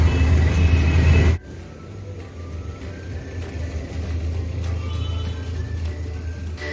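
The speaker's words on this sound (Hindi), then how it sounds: "अभी वो गाड़ी पार्किंग में लगा रही है" A car is driven into a parking spot at a busy market, its engine and road rumble loud at first, then cutting to a softer, steady idle and street hum.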